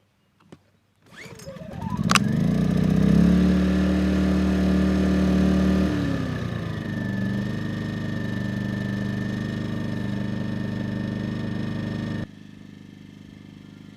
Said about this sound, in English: going to do the same test with this Yamaha inverter generator